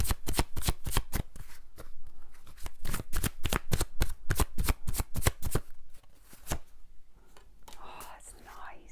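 Tarot-style Chuck Spezzano healing cards being shuffled by hand in rapid, crisp riffling bursts, close and loud, with a brief soft whisper-like rustle near the end.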